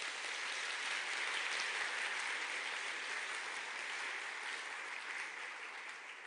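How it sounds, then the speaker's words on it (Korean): A seminar audience applauds to welcome Atomy Royal Leaders Club members, a continuous, even wash of many hands clapping that sounds fairly distant and soft and tapers slightly at the end. "우리 이런 훌륭한 애터미 로얄 리더스 클럽 회원들에게 큰 박수로 환영합니다"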